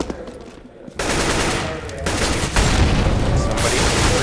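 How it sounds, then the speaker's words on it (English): Rapid rifle gunfire bursts from a FAMAS in a Counter-Strike professional match, loud dense automatic firing that continues almost without gaps, mixed with other in-game shots. "Sponge finds a kill to Captain Mo with the Famas."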